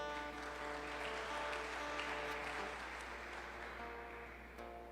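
A church congregation applauds in a steady, even wash of clapping over sustained keyboard tones, fading slightly toward the close.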